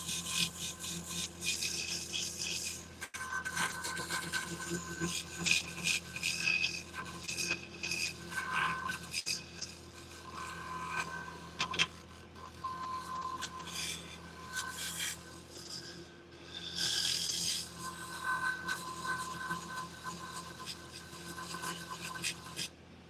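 A scraper tool cuts into spinning wood on a lathe, a steady raspy scraping and rubbing that swells and fades in passes over the motor's low hum, close and moderately loud.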